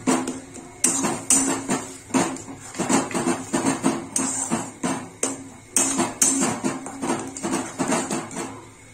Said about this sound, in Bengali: দেখো মশলাটা কষানো হচ্ছে।